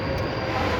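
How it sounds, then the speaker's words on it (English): Subway train pulling into a station, a steady low rumble of rail cars at moderate loudness, continuous and unbroken over a brief moment with no voices. "And here comes the subway."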